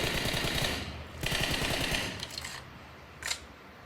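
Rapid gunfire in PUBG Mobile as a player shoots at targets in first-person view, with dense bursts of automatic shots followed by a few sparser shots and a final sharp report near the end.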